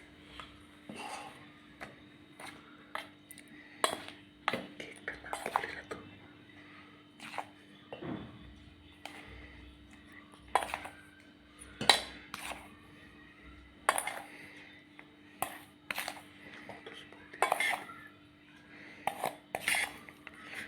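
A utensil scrapes and clinks against a bowl while egg and sugar are mixed for homemade plum cupcakes, giving irregular sharp taps and rubs with quiet gaps between them, close and fairly soft.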